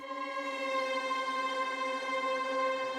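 Layered string patches from Contact and Augmented Strings, a sustained, slightly dissonant harmonic drone that holds steady throughout without any voice.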